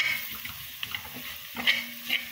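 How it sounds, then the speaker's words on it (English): Toasted, home-ground garam masala spices frying in a pan while preparing an Indian mixed vegetable curry, giving a soft continuous sizzle with faint stirring scrapes and small clinks throughout. "So I'm just leaving this here to kind of fry"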